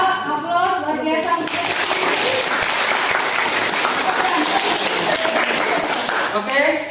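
A classroom audience breaks into loud, sustained applause after a group presentation, dense clapping that fills the room for several seconds and tapers off at the end, with some voices mixed in.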